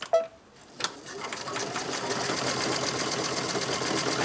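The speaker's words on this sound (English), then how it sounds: "I'm on medium speed. I don't have my presser foot hooked in, so I'm just going to use the sewing button." A home sewing machine stitching at medium speed, run by its start button with no presser foot pedal while finishing an embroidered yard flag; after a couple of short clicks the steady mechanical whir builds and runs continuously and close.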